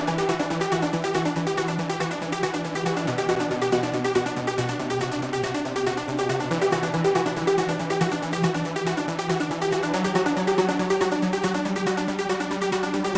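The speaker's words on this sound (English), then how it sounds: "This is the pluck Chaos from Hardcore Serum Bank by Florency." Bright Serum synth plucks from the Chaos preset in the Hardcore Serum Bank repeat in a fast, dense hyperpop beat over a low bass line, steady and loud without any vocals.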